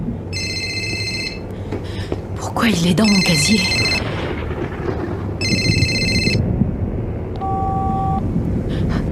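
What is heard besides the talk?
mobile phone ringing in a locker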